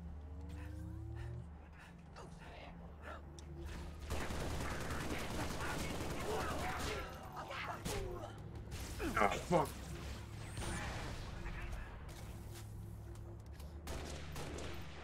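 Gunfire rattles in Halo: Reach, with rapid bursts and bursting impacts in the middle of a busy battle mix, while someone talks over the action.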